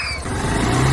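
Scooter engine running close by, a brief droning motor that rises slightly in pitch and loudness as it pulls away, alone without talk.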